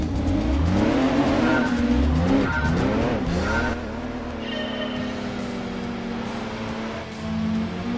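A revamped racing Mini at Laguna Seca in Gran Turismo 2 revs hard and climbs through its gears, the engine note rising and dropping at each shift, with tyre squeal at a corner, loud and close and free of talk.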